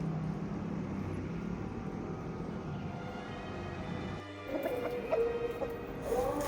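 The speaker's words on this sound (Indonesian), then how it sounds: "Lalu saya juga punya ayam di sini." Chickens cluck near a house, soft, scattered calls over a constant low rumble of background noise, with a few clearer clucks toward the end.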